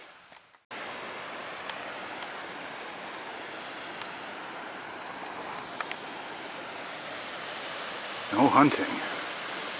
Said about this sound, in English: Look at the little waterfall.